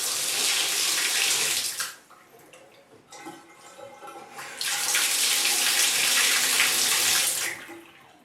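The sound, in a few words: bathtub faucet water turned on and off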